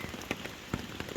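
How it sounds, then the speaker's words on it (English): Steady rain patters on a tent at an Appalachian Trail camp, with scattered soft drop hits over a constant hiss, close and fairly quiet. "it is still raining"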